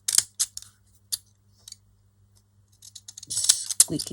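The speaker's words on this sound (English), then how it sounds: "squeaky scissors." Squeaky scissors snip through paper in a few sharp, separate cuts with short squeals and clicks, close up against a quiet background, before a burst of rustling and a voice near the end.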